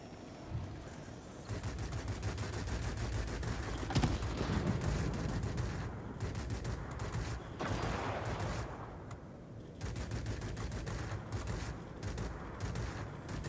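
Aircraft cannon fire in a flight combat video game, a Yak fighter's guns rattling in long rapid bursts with short pauses, steady and fairly loud throughout.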